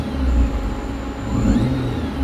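An electric-converted Toyota AE86 plays a simulated engine sound through a blip of revving, a close, steady mid-pitched hum that swells and eases over a couple of seconds, with no talking.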